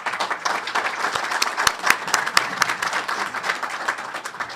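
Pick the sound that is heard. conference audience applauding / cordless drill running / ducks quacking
conference audience applauding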